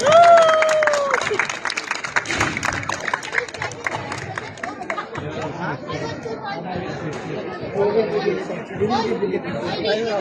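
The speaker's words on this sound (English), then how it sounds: "Guys, let's give them a round of applause, please." A crowd at a school sports day in Doha, Qatar, claps for the winners. A burst of applause comes early, then gives way to a dense hubbub of chatter and nearby voices that carries on to the end.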